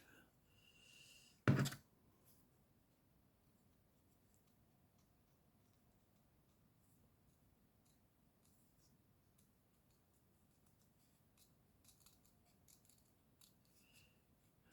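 One sharp, close snip of scissors cutting through a paper Christmas card, followed by long near-silence broken only by faint, scattered ticks and small handling noises.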